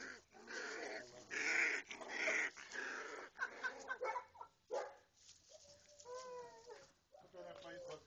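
German Shepherd and Siberian Husky mix puppies bark and yip in short, uneven bursts close by, with some whiny, howling notes and a person talking in between.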